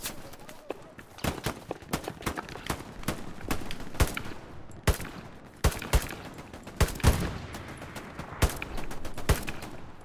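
Scattered gunshots in a shooter video game, sharp single cracks and short bursts at irregular intervals, some near and loud, others fainter, with a voice talking in between.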